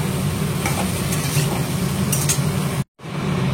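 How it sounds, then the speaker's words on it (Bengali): Fried pointed gourd is stirred into spice masala in a pan, a dense close sizzle with scraping stir strokes and faint clinks, cutting to a brief silence near the end before resuming, no voices heard. "এরপর ভেজে রাখা পটলগুলোকে আমি মিশিয়ে দেব। তারপর ভালো করে কষিয়ে নেব।"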